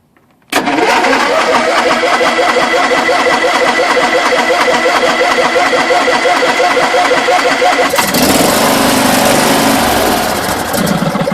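A John Deere LA150 lawn tractor engine cranks and catches after sitting cold for three months, then runs loud and close with a steady, slightly rough idle that shifts in tone partway through.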